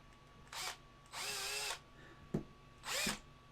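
Power drill boring pin holes into a grainy resin model kit, three short whirring bursts with a small click between, close and fairly loud with no talking.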